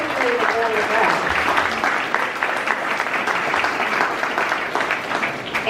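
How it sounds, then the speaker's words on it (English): Loud, continuous applause from an audience at a political event honoring candidates, a dense roar of clapping that holds steady throughout. A voice is faintly heard near the start. "So one more round of applause for our candidates, particularly the Board of Ed."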